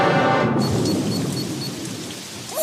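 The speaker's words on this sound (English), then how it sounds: "We got 1 inch of rain!" Steady rain hiss with a rumble of thunder from a children's ABC Mouse weather machine learning game, loud and continuous throughout, with small chime-like tones over the downpour and no talking.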